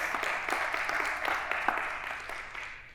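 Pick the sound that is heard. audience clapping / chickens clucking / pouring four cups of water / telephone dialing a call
audience clapping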